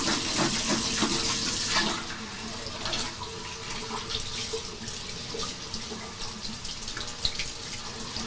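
Tap water pours through a Dyson V15 Detect vacuum filter as it is rinsed in a sink, a close, continuous splashing rush that is strongest at first and then settles into a softer flow.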